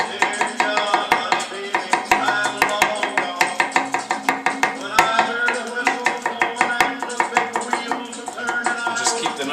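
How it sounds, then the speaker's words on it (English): A knife chops garlic into large pieces on a cutting board in a home kitchen, a fast, steady run of sharp, close knocks repeating for the whole stretch with no talking. "I'm just gonna chop the garlic so it's kind of like big pieces"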